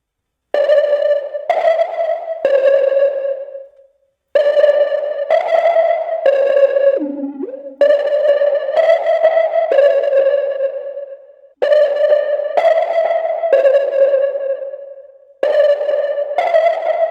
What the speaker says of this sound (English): Now we can put some delay on it.